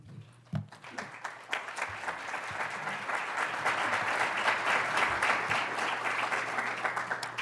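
An audience at a public higher education open forum applauds, the clapping building from scattered hands into a sustained, even round that continues to the end.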